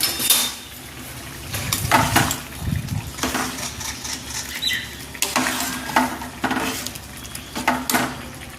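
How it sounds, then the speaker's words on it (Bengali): Scraping and clinking of a utensil against a metal pot of rice in irregular bursts, with soft rattles between strokes. "চলো ভাতটা নেড়ে দিই"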